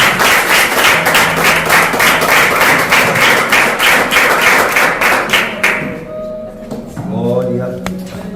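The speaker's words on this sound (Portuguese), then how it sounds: "vamos aplaudir o Senhor" A church congregation claps loudly and steadily for several seconds, the applause fading out toward the end as voices rise to speak.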